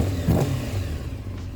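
A Honda CBR600 sport motorcycle engine revs close by, a brief rising burst of intake roar that settles into a steady idle rumble.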